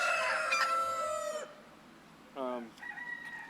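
A rooster crows loudly and close on a chicken farm where bantams are kept, followed by a shorter, fainter crow and clucking from other chickens nearby.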